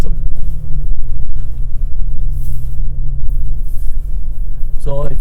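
A 2017 Toyota Tacoma TRD Pro drives off-road in two-wheel drive, giving a loud, steady engine and tyre rumble with wind buffeting the microphone throughout.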